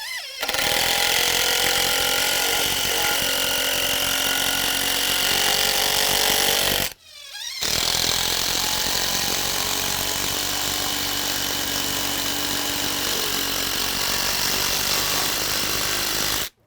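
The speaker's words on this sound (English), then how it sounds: "I can just drive this in with my impact driver," An impact driver drives structural screws into deck lumber in two long, loud bursts of rapid rattling hammering, each lasting several seconds, separated by a brief pause.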